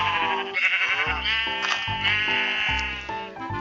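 Minecraft sheep bleat in a few wavering, nasal calls repeated in close succession, clear and near with no talk over them.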